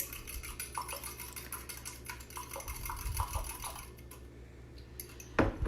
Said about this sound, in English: I'm gonna whisk my egg now